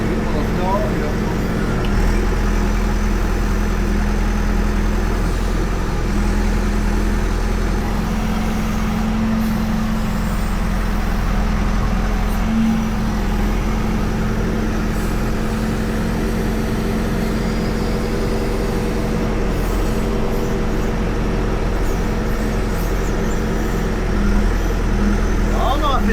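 A tractor hauls a slurry tank trailer, its engine holding a steady, loud, heavy drone throughout with little change, and voices come and go over it.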